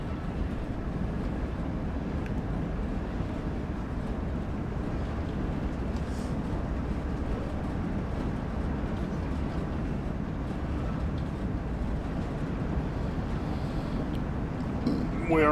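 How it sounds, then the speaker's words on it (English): A long freight train rolls down the steep Cajon Pass grade, a steady loud rumble and roar of wheels and cars filling the whole stretch without a break, with faint squeals near the end. "The train is starting to take off on us."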